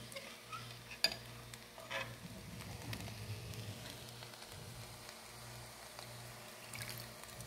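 Cooked vegetables and noodles sizzle faintly in a frying pan as they are stirred, with soft scraping and clinks over a low, steady hum.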